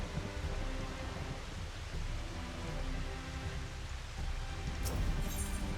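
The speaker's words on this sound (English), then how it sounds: "Why is it raining?" Steady rain in Final Fantasy XIV hisses softly in the background, a continuous even wash of falling water with no voices.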